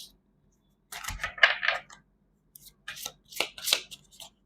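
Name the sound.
tarot cards being shuffled and drawn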